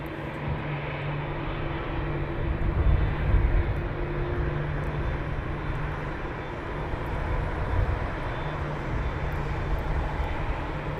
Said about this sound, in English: And then we have the Turkish taxiing down.